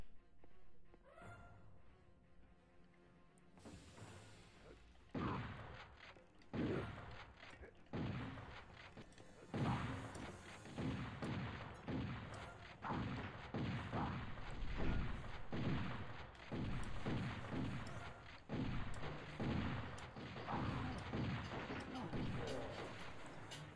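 Repeated heavy gunfire bursts in the video game Turok: Evolution, loud and rhythmic, pounding steadily through most of the stretch.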